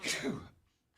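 A single sneeze from someone on a live sports-talk show: a sharp, breathy burst that fades within half a second. It sounds fairly faint, and nothing follows.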